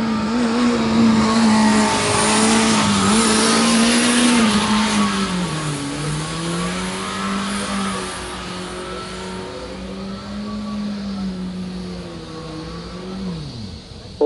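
A student formula race car circles the track during an endurance event at the 2013 national student formula competition, its engine note loud and continuous, rising and falling through a corner before dropping sharply near the end.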